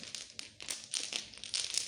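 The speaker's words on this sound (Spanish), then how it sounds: "Vamos a barajar estas piedras." Domino tiles being shuffled by hand on a table, a faint clattering and clicking of stones sliding against each other in short irregular bursts, no talking.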